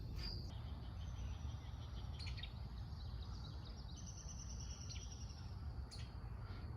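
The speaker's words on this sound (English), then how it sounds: "you can hear the bugs, you can hear the birds singing" Steady high insect chirring fills the background, with faint bird calls scattered through; a late-summer outdoor ambience, fairly quiet and continuous.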